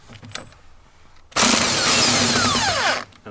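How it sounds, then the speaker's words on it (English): An electric impact driver loosens a nut on a Toyota Corolla while replacing the brake master cylinder and booster. After a few faint clicks, it gives one loud, sustained burst of rattling hammering lasting about a second and a half. "and now I use electric impact driver"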